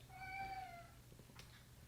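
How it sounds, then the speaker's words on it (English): A cat meows once, a clear drawn-out nearby cry, then a faint short sound follows over a low background hum. "hopefully it will stop meowing"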